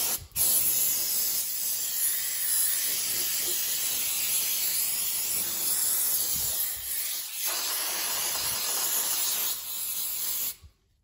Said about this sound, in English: now we're going to move to the jet spray.